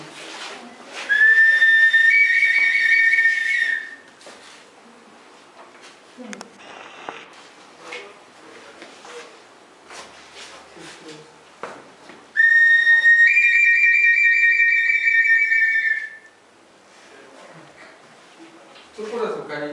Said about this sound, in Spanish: Son puras azucarinas, estos son silbatos, azucarinas.